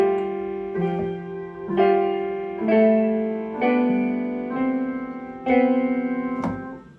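A series of sustained piano-like notes struck one after another, each chord ringing and overlapping with the next in a slow, even pattern.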